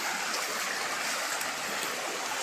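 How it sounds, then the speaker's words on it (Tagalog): Clear river water flows steadily in a continuous, even rush close by, with no voices over it. "Ang umaagos na tubig sa ilog namin mga idol, ganyan kalinaw."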